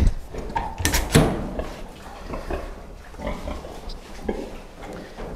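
Large sows grunt in a farm pen, several close, low snorts and grunts in irregular bursts, with a louder clatter of metal or a feeder around one second and quieter shuffling afterward.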